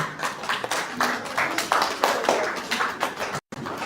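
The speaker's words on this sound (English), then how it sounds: "Arabella Maji, clap for her." An audience claps for a contestant at a school inter-house quiz and debate event, with a dense patter of hand claps close by and a brief cutout near the end.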